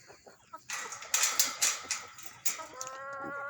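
Chickens cluck close by in a run of loud, sharp squawks and clucks, ending with a short rising call, heard without talking.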